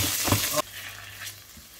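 Garlic purée dropped into hot olive oil, a loud close frying crackle and sizzle that cuts off abruptly, followed by a faint low simmer.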